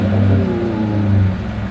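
Ford F150 STX V8 pickup with its resonator deleted, idling with a steady low, smooth rumble and a slight rise in the middle, close and fairly loud with no talk over it.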